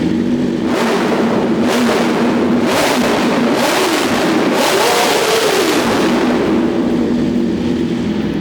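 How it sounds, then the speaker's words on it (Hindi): A BMW S1000RR sport motorcycle's aftermarket exhaust roars loudly and continuously close by, with several sharp throttle blips rising and falling over a steady idle. "तो जी ये रहा एग्जॉस्ट साउंड"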